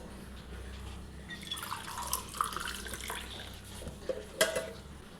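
Homemade kulfi mixture pours into a glass, faint wet trickling and dripping with a few soft clinks of the container against the glass, quiet and close.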